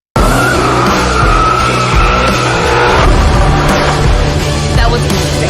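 Race cars at a NASCAR track roar continuously with sharp tire squeal and skidding, very loud and close, with engine drone throughout and no talking.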